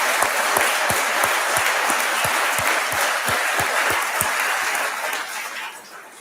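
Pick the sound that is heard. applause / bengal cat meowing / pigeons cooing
applause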